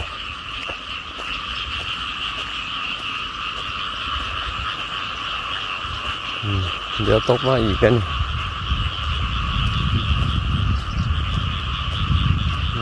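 Small frogs croaking in a dense, continuous spawning chorus after rain, with a nearer burst of rhythmic croaks midway and a brief voice speaking.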